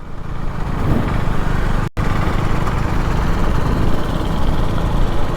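A group of KTM Duke 390 motorcycles rolling slowly together, engines droning in a loud, steady low rumble with wind rush, close and continuous, a brief dropout midway.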